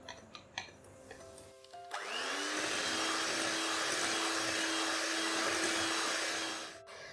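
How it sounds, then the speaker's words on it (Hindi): An electric hand mixer beats butter and powdered sugar in a bowl for a pound cake batter, starting with a few light knocks and then a loud steady whir that runs for about five seconds before stopping. "इसमें बटर डाल देंगे और इसमें पाउडर चीनी डालेंगे और इसे बीट करेंगे।"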